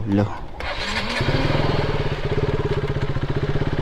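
A motorcycle engine cranks and catches, then settles into a steady, chugging idle close by.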